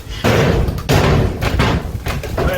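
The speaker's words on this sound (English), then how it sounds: "I think the door should shut a little better on it" Several loud, close thumps and slams in quick succession as the door of a 1977 Chevy C10 pickup truck is pushed shut repeatedly.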